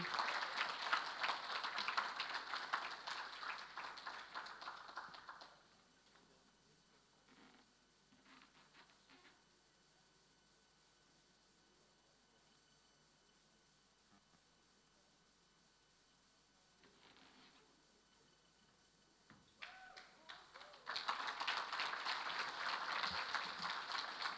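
An audience at the Caribbean Maritime University 2022 Long Service Awards breaks into loud, dense applause for several seconds, falls to a long near-silent stretch, then swells into another burst of clapping.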